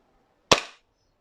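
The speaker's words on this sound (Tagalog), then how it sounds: "Medyo mahina itong unang putok natin dito sa magazine na to." A single sharp crack from a Novritsch SSP-1 Hi-Capa 5.1 airsoft gas blowback pistol, close and loud with a quick decaying tail, set against near silence.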